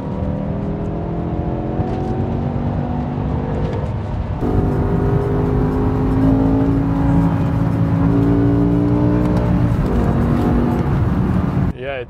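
A naturally aspirated sedan engine revs while driving, a steady in-cabin drone whose pitch rises and falls through the gears, with a person talking over it.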